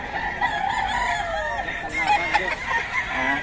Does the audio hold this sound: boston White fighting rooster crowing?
yes